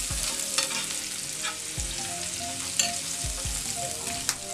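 Chopped ginger and garlic sauté in hot oil for a street-food style masala cheese pasta, giving a continuous close sizzle with several low spatula scrapes and stirring knocks against the pan, and no voices.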